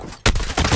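Gunfire in Call of Duty Modern Warfare on PS4: a sudden loud shot bursts in after a quiet moment, followed by a rolling rattle of further shots and a second strong blast near the end.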